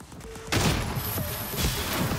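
Enemy gunfire in the video game Prey Mooncrash: a dense volley of shots breaks out after a brief quieter moment, then continues as rapid, fairly loud repeated cracks over a steady background hum.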